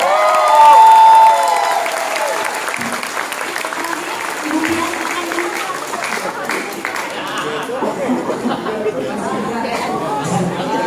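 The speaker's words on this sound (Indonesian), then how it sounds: "Buat Julian, tepuk tangan yang kencang." An audience at a 2016 stand-up comedy show breaks into loud applause that gradually settles into steady clapping mixed with crowd chatter, with a voice talking over it.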